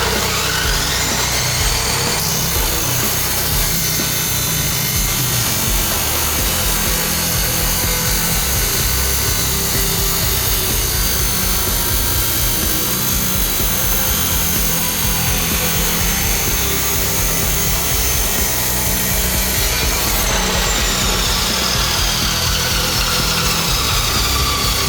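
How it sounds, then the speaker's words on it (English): A saw making a miter cut through steel framing for a shelf, a loud, continuous harsh grinding whine that runs unbroken for the whole stretch with a slight shift in tone near the end. "This particular one I'm not going to speed up, so you can watch how long it actually takes to do a miter cut."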